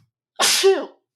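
A single sharp human sneeze, loud and close, bursting out after a moment of silence and fading within about half a second.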